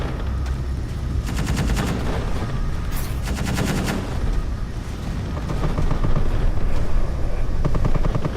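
Rapid Gatling gun fire in Space Engineers, several dense bursts of fast repeated shots over a continuous low engine-like drone, loud and close, with a heavier sustained stretch toward the end.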